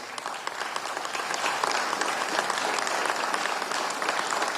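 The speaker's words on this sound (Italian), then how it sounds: "Ancora un applauso." Sustained applause from an audience at a Venice Biennale Arte event, steady dense clapping throughout at moderate level with no speech over it.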